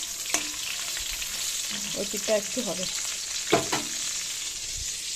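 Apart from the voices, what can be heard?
fish frying in a pan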